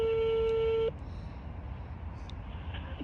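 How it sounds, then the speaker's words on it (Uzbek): A steady electronic telephone tone sounds loud and continuous for about a second as a call is placed, then cuts off, leaving faint background noise. "biza Shohazizga telefon qilyapmiz."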